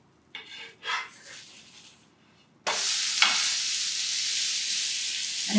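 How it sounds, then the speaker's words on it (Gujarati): A vegetable uttapam roasting in a pan, a sudden loud, steady sizzle that starts partway through after a few quiet scrapes and handling sounds, with one sharp tap of a utensil on the pan. "હવે ઉત્તપમને તમે ઘી, તેલ કે બટર ગમે તેમાં શેકી શકો છો"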